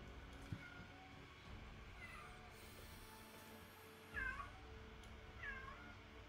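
A house cat meows a few times at moderate distance, short rising calls scattered over steady low background hum, with no talk over them.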